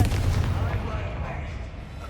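Confringo explosion spell in the video game Hogwarts Legacy: a single deep booming blast that decays into a low rumble, loud and close.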